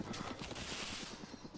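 Rapid gunfire from the survival video game DayZ, a fast train of sharp repeating shots across the whole moment, fairly loud and steady with no talking over it.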